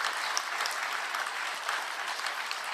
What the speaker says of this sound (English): I was wondering if you could all join me in applause to the Harper family